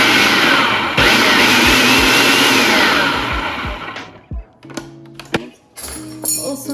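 A blender pulses recipe ingredients for a paleo mushroom pot pie with a loud close whirring roar for about four seconds. It then stops and gives way to softer kitchen clatter.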